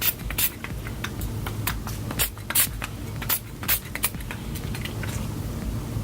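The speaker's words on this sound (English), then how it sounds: "I like to spray with my Urban Decay All Nighter" Urban Decay All Nighter setting spray misted from close range, a string of short, sharp hissing pumps at uneven intervals over a soft background rustle, with no talking.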